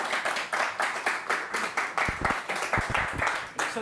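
Audience clapping in a room at a Korean book concert for a pastor's new book, steady and fairly close, with a few louder individual claps standing out near the end.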